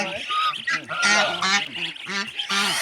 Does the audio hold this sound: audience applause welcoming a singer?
no